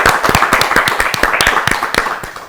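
Studio audience at an Ethiopian children's TV quiz show for an Easter contest claps together in a quick, steady rhythm, the sharp claps fairly loud and close with no talking over them.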